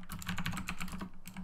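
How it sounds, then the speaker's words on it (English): Quick, light clicks of fingers typing a command on a computer keyboard, a brisk close-up patter of keystrokes lasting barely over a second. "So if I go over to Jessica and I type"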